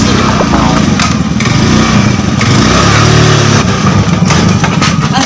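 A small motorcycle engine runs loudly and continuously at close range, a steady rough drone with slight revving that fills the whole stretch; no clear cut-out is evident before it ends.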